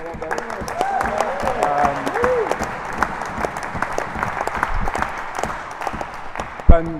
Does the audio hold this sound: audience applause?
yes